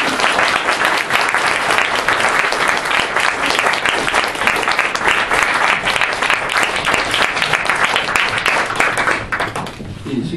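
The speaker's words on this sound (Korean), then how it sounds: "여러분이 나오실 때 정말 있는 대로 박수를 많이 치면 소화도 잘 된대요" Sustained, loud applause from a seated audience fills the hall almost throughout, many hands clapping densely at a talk event, tapering slightly near the end as the clapping begins to thin.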